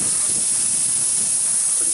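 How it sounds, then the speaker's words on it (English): An airless spray gun squirts a mix of Duratex and water in a steady, continuous close hiss that holds without a break. "you just stand here and keep squirting until you see Duratex come out"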